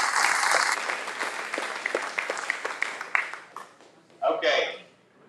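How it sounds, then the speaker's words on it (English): An audience at a live charity auction bursts into lively applause that swells, then thins into scattered claps and fades out within about four seconds, a voice briefly heard at the end. "Give a big round of applause."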